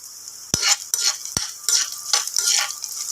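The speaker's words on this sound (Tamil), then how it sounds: "இப்போ வெங்காயத்தை வந்து நம்ம நல்லா வதக்கிக்கலாம்." Small peeled onions, halved, sautéing in hot oil in a pan, a steady sizzle broken by a few sharp clinks of a spoon against the pan as they are stirred.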